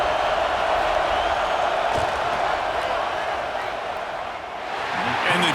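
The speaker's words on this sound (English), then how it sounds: "This crowd trying to do its part to get inside the kicker's head." A dense, roaring stadium crowd fills a College Football 26 game during a Nebraska vs Iowa field goal attempt, a loud continuous wash of noise that dips briefly and swells again.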